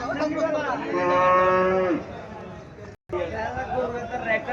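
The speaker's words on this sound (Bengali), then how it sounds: "এখানে একটা গাভী দেখা যাচ্ছে" A Haryana cow at a cattle market in Cumilla gives a long, clear moo up close, followed by murmuring market chatter and nearby voices.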